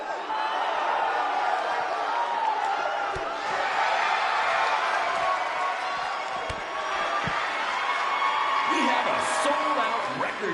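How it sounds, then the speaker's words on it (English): A large arena crowd roars and cheers steadily in a wrestling video game played on PS4, a dense, continuous wall of crowd noise with scattered slams and a few brief tonal sounds near the end. "Record-setting crowd here for BCW tonight."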